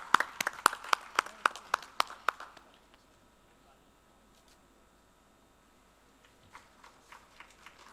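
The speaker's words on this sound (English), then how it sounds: "A loud round of applause" A few people at a cybersecurity conference session clap: a short run of sharp, evenly spaced claps, then near silence, then a fainter scattering of claps at the close.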